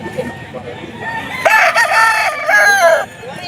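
A rooster crows loudly and close by at a busy pet market selling farm-bred fowl, the long harmonic call rising and holding for over a second before a second crow follows, with faint market chatter underneath.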